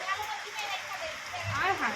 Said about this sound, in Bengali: অনেকদিন পর বৃষ্টি হচ্ছে